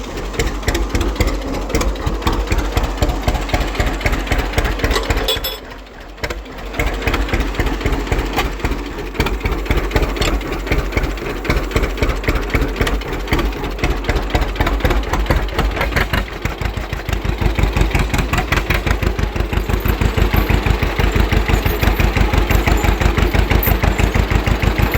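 A Duramax LB7 diesel engine swapped into a Chevy S10 with an NV4500 transmission runs close and loud with a steady, rough, throbbing idle. It dips briefly, then settles into a slightly higher, harder run.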